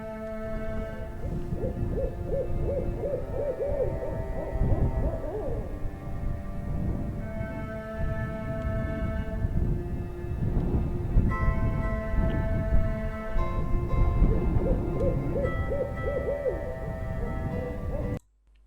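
An owl-like bird hoot sound effect plays in repeated phrases over a bed of wind noise and music, loud and continuous for the whole stretch, with no voices.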